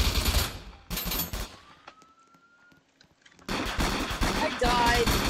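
Rapid rifle gunfire bursts in a police emergency-response video game, loud and close at the start and again near the end, with a quieter gap between and a faint siren-like tone.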